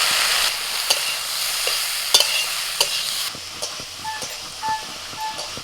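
Ridge gourd and potatoes fry in a pan with a steady loud sizzle, broken by occasional scrapes and clinks of a stirring spoon.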